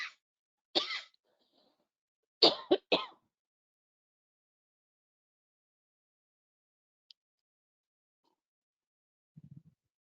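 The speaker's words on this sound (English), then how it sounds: "Christy still just had a bit of a cough there." A few short coughs and throat-clearing sounds from one person, spaced out over a quiet background, fairly close and clear, followed by long silence and a faint murmur near the end.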